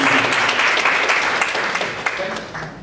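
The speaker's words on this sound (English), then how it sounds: "let's give a big round of applause to Vinny Gupta, the founder of UCEZ." An audience at a big data analytics talk claps steadily in sustained applause, dense and even, tapering off slightly toward the end.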